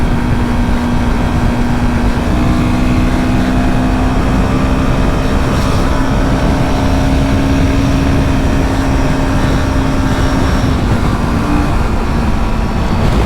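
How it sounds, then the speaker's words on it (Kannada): Royal Enfield Himalayan 450 motorcycle engine running steadily and loud throughout, a continuous low exhaust drone with a constant hum and no speech. "ಎಕ್ಸಾಸ್ಟ್ ನೋಟ್ ಮಾತ್ರ ಸಕ್ಕತ್ತಾಗಿದೆ ಗೈಸ್, ನನಗೆ ಇದ್ರದ್ದು ಎಕ್ಸಾಸ್ಟ್ ನೋಟ್ ತುಂಬಾ ಇಷ್ಟ ಆಯಿತು"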